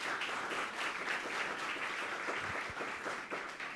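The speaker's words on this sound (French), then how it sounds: "Les applaudissements, s'il vous plaît." An audience at a Creole-language event about schools and media applauds in a steady, faint rush of many hands clapping that continues evenly throughout.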